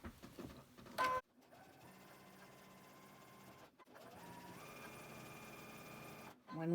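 A sewing machine stitches quilt blocks together, running in two long, steady whirring stretches that are split by short pauses, with a brief louder burst near the start.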